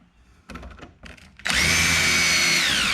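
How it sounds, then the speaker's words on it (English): A power drill pre-drills a wooden plank for a DIY workbench build, its loud steady whine starting abruptly after a few soft handling knocks and running on close and continuous to the end. "take a drill, pre-drill it"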